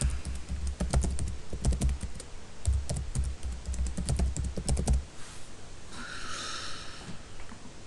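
Rapid clicking keystrokes on a computer keyboard as a password is typed, close and steady for about five seconds, then stopping and leaving faint room noise.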